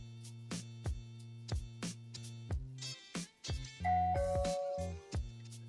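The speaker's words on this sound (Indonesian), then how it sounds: "kalau misalkan kalian mau fungsikan ini sebagai doorbell atau bel pintu, ini langsung aja ditekan" A Tediton F7 smart camera door lock sounds its doorbell chime when pressed, a near, clear electronic melody of repeated tones in a steady rhythm, ending in a brighter sustained ding with no talking.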